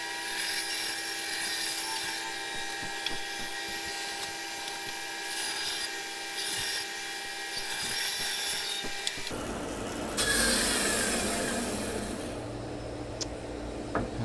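A bandsaw cuts very green photinia wood into discs, its steady whine and hum running throughout, with a rougher, louder tone once the blade bites deeper partway through.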